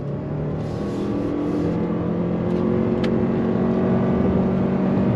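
A 2022 Toyota RAV4 Prime SUV accelerates steadily onto a highway, its drone rising in pitch as it revs up, close and loud with a constant rush of road and wind noise.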